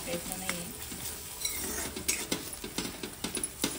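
Chopped tomatoes softening in a pan for paneer bhurji, a quiet continuous sizzle with repeated light scraping strokes of a spatula, fairly soft and close.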